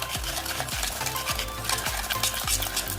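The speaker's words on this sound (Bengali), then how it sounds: "বেশ খানিকক্ষণ ধরে কিন্তু এটাকে ফেটাতে হবে" Cake batter with yogurt is beaten steadily in a bowl, making a continuous wet, scraping whisking sound with a regular rhythm, close and alone.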